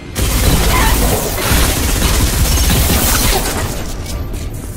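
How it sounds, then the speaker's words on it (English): In the shooter Selaco, dual-wielded rapid-fire SMGs unleash a loud, continuous barrage of gunfire with a dense booming impact, sustained for several seconds without pause. "There is also a rapid-fire SMG that can be upgraded to deal electric damage, but can also be dual-wielded"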